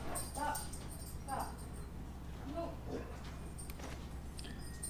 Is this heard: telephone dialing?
no